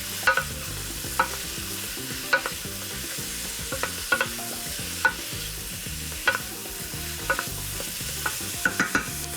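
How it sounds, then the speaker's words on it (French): Broccoli and other vegetables sweat in fat in a soup pot for a broccoli and kohlrabi soup. Steady close sizzling runs under a rhythmic stirring pattern, with regular scraping clacks roughly every second and no voices. "J'ajoute mes brocolis. Voilà. Je laisse suer un instant."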